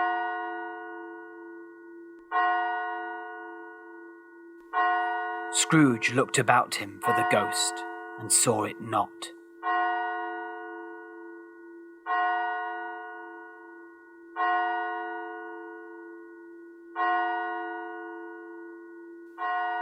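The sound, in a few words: clock bell striking twelve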